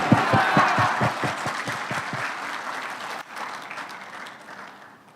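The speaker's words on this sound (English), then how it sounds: "Let's give a big round of applause to the GPA team for this amazing video." An audience at a power plant commissioning ceremony applauds the GPA team with loud, dense clapping that starts strongly, then gradually fades and thins out toward the end.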